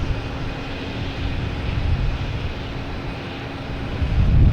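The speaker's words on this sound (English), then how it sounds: "Oh, the FedEx plane. That's what it was." A FedEx cargo plane flies past at Boston Logan Airport, a steady broadband roar from moderate distance that swells louder toward the end, with no talking.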